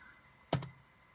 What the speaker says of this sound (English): if we just type in Salons Newcastle